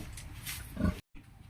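A pig on a piggery farm gives a single low, close grunt, followed by a short silent gap and faint barn background.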